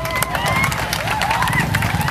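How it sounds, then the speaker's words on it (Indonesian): A crowd of skaters gathered for Go Skateboarding Day claps and cheers outdoors, a dense, continuous wash of applause and shouting with voices mixed in throughout. "Boleh dong tepuk tangan dong buat kalian semua"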